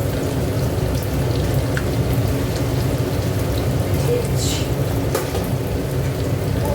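Onions sizzling in hot oil in a home kitchen, a dense steady crackling hiss that continues throughout with faint voices in the background.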